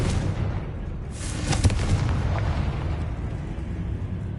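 A Confringo fire-blast spell bursts in the video game Hogwarts Legacy, one loud boom near the middle over a continuous rumbling game soundscape, with no voices.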